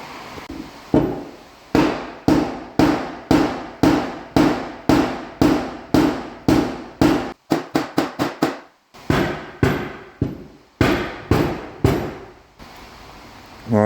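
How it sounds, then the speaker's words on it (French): A hammer strikes a wooden block to straighten metal on a Toyota RAV4, sharp loud blows falling in a steady rhythm, then a quick burst of faster taps, a brief pause, and more regular strikes. "Marteau, cale de bois."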